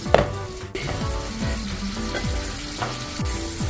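Garlic and onion frying in a pan for a prawn casserole, giving a steady, close sizzle that runs the whole time beneath soft tonal background music.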